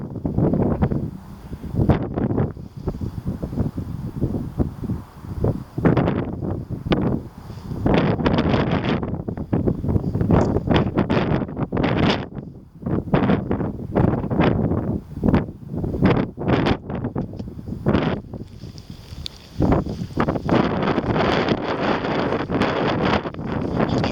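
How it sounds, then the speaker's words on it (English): Heavy wind buffets the microphone in loud, irregular gusts, producing a constant rumbling roar that rises and falls throughout. "So it is quite windy. So the audio is not ideal."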